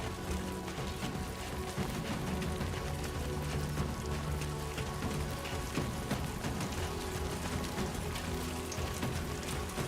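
Steady rain pours down in a delivery video game, a dense continuous patter of drops on rocks and ground that stays loud and even throughout, with no talk over it.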